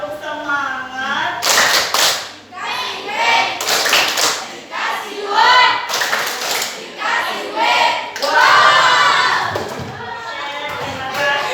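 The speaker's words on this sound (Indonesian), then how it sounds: "Tepuk semangat." A classroom of children doing a rhythmic spirit clap in unison, bursts of clapping in short patterned groups mixed with voices chanting and calling out throughout.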